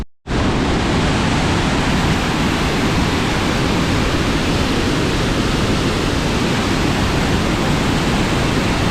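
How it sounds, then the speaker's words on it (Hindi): Water released from the dam at Fateh Sagar Lake in Udaipur rushes out in a loud, steady, unbroken roar that starts abruptly and holds evenly throughout. "ये डैम है जहाँ से अभी पानी छोड़ा जा रहा है"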